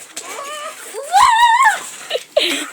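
A dog whines and yips close by in several rising, wavering bursts, followed by short sharp yelps, loud and near.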